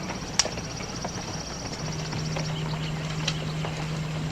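Faint hoofbeats clop sparsely over a steady background hum, with a low tone droning through the second half.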